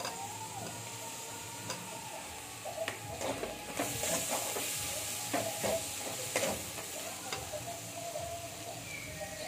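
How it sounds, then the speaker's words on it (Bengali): Chopped tomatoes and spices sizzle softly in a pan with salt, while a spoon scrapes and taps in an irregular stirring rhythm, close and fairly quiet. "সামান্য একটু জল দিয়ে মশলাটাকে কষিয়ে দেবো"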